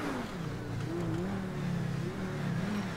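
A car engine in GTA 5 revs continuously, its pitch rising and falling in steady waves, loud and close, with no voices; the car is stuck under a ramp.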